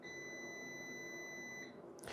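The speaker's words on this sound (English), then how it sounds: "cover it back up, and we'll hear a beep." An Apollo 5K solar generator gives a steady high electronic beep tone for almost two seconds as it is switched on, then stops, followed by a brief soft clatter.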